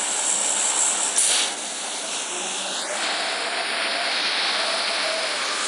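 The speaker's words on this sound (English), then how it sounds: "if you don't get out of the plane, then it will automatically throw you out" Airplane engine in the PUBG Mobile battle royale game, a steady whooshing drone heard from inside the cabin before the jump, holding at a fairly loud, even level throughout.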